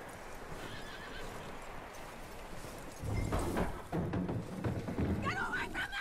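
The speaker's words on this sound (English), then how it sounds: "That looks like a decent horse." A horse whinnies loudly and snorts in the video game Red Dead Redemption 2, with heavy hoof clomps and thuds on hard ground; a voice is faintly present in the background.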